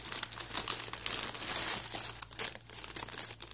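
Plastic packaging crinkles and rustles continuously as artificial roses bought online are unwrapped, a close, steady crackling alone with no talk.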